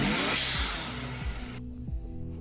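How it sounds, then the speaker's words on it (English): A car's turbo blow-off valve vents in a sharp hissing burst over the engine note, then cuts off abruptly as the engine revs drop and settle. "And now a proper blow-off sound."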